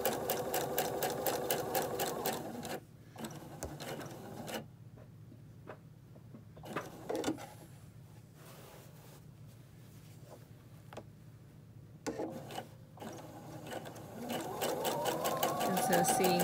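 A sewing machine stitches a quilt along a fabric edge in the ditch, a close rapid mechanical chatter that runs in bursts with quieter pauses between, while a person talks over it.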